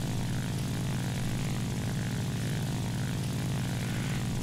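A steady, droning propeller engine of a fighter plane in the War Thunder flight game, loud and continuous with no break or talk over it.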